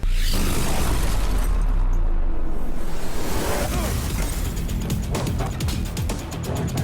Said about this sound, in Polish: W paryskim metrze wybuchają bomby, co powoduje wielką panikę